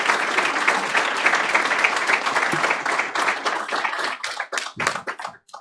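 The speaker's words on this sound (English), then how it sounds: "let's give both of the employees from Liberty good round of applause" Audience at a school district board meeting claps for two honored employees, a full round of applause that holds strong, then thins into scattered individual claps and fades out.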